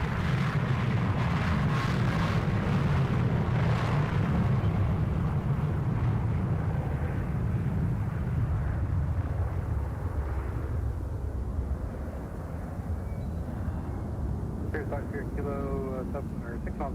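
Airplanes roar overhead on approach, a broad, steady rumble that swells and slowly fades, heard from the ground with wind buffeting the microphone.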